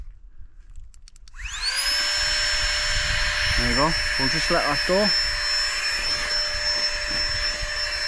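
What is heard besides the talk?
Flextail Tiny Pump 2X electric air pump running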